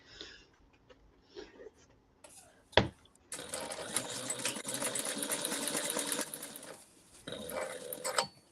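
A sewing machine bastes around fabric pieces for a cruise-cabin fish extender, whirring in a steady rapid stitching run of several seconds after scattered handling noises, then briefly again near the end.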